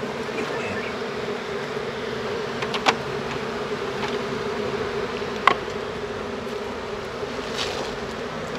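Honeybees at an apiary hive during a honey harvest give off a steady, continuous buzzing drone, close and even throughout, with a couple of faint taps and no talking.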